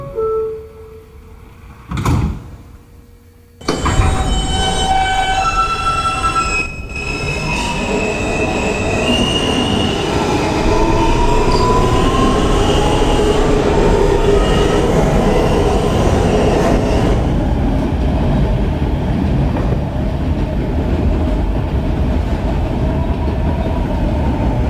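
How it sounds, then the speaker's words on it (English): An R160 N subway train on the Astoria line pulls away from a stop and runs toward 30th Avenue, a loud, steady rumble of wheels and motors with squealing rail noise throughout, after a short quieter pause at the start. "This is a Ditmars Boulevard bound N train."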